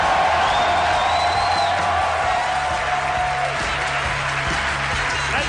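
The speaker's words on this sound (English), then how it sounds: "I thought that would get a big applause" A live theater audience at a comedy podcast taping applauds and cheers, with whoops mixed into continuous clapping under a voice on the microphone.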